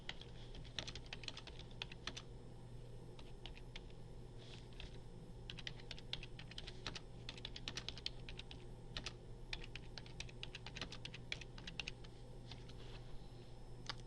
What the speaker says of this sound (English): I'm going to type in my responses